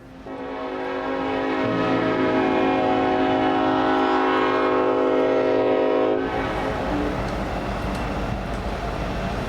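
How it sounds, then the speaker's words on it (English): BNSF Northtown to Tulsa priority manifest freight train sounding a long chorded horn as it approaches, then the loud rumble and rattle of passing railcars after the horn stops. "the Northtown to Tulsa Priority Manifest came by with an H1-9 trailing second"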